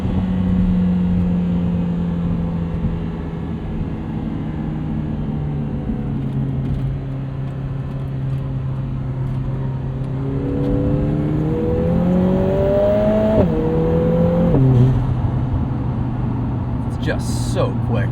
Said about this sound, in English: you can't even comprehend how fast this gearbox shifts